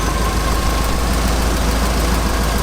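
A 1985 Chevy K10 truck with a fuel-injected engine idles steadily and close by, a continuous low rumble that holds even throughout with no voices over it.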